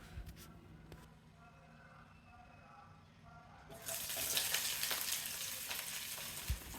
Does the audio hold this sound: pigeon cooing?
no